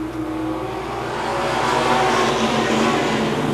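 Race cars on a super short track roar down the back straightaway at an Oktoberfest event, a dense, steady engine drone that swells slightly louder and stays continuous, with no talk over it.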